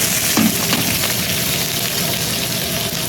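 Garlic and onion sauté for bottle gourd with a dense, steady sizzle and light stirring noises close by, continuous for a few seconds without talk.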